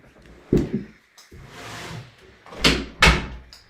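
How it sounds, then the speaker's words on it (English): An indoor door is pushed shut: a soft thump, a rustle of movement, then two firmer knocks as it swings closed and latches, fairly close in a quiet room. "I think I'm going to just close the door"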